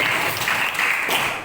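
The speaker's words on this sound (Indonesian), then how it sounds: "tepuk tangan untuk Ananda Ilzam" A classroom claps for a student, a short burst of many hands clapping together, steady and fairly loud, with no talk over it.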